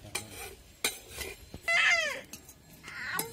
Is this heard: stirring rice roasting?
yes